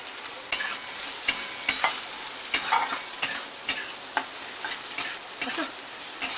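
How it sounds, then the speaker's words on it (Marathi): Chopped onion stirred and roasted in a pan for samosa filling, a spatula scraping in steady, regular strokes over a soft sizzle, close and clear. "कांदा पण जास्त असं भाजायचं नाहीये, नॉर्मल असं भाजायचं साधारण असा."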